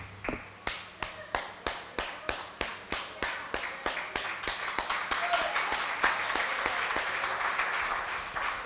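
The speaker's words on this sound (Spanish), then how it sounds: "yo voy a aplaudir por usted." A preacher claps alone in a church service, a steady run of sharp, close hand claps that quicken, with faint voices underneath.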